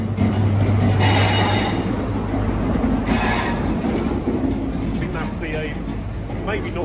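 A CrossCountry Class 43 HST train arrives at a station: a loud diesel rumble at first, then clattering wheels and high squealing brakes as it rolls in close by, with a voice talking over it.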